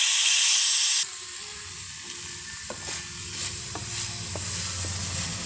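Tomatoes and onions sizzle and fry in a pan, a steady close hiss broken by a few scrapes and taps of stirring, with no talking.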